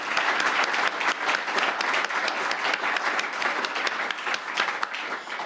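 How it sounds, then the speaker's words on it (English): Steady, full applause from an audience at an international festival in Milton Keynes honoring volunteers, a dense sustained wash of clapping that holds evenly throughout with no break. "So please give all the Open University volunteers a round of applause."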